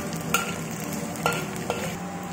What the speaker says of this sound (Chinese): 再倒入牛排炒干